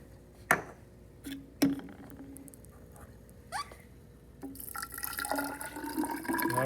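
Water poured into a graduated measuring container toward a 250 mark during a Charles's law gas-volume experiment: a few scattered drips and clinks, then a steadily building, close splashing pour in the final seconds.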